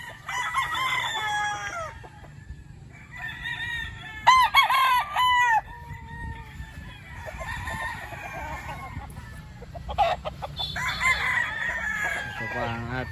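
A sweater gray gamefowl rooster, October-born, crows repeatedly nearby in loud drawn-out calls, with other roosters crowing and clucking around it over a steady low hum.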